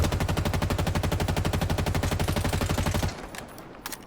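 A fully automatic weapon in the shooter game Halo Infinite fires a rapid, even stream of about three seconds of close, loud shots, then stops, leaving faint clicks and ambience.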